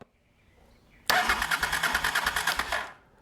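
A Honda Africa Twin motorcycle engine is cranked by the starter after a quiet pause, giving a loud, rapid, pulsing whir with regular compression beats for about two seconds before stopping without catching.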